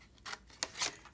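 Paper snips cut through paper in three quick, crisp snipping strokes, close and quiet against a faint background hush.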